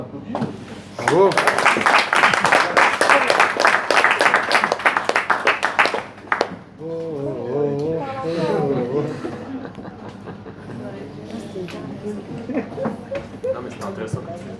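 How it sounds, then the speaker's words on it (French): An audience claps steadily and loudly for about five seconds, then the applause stops and people talk and laugh nearby. "On applaudit."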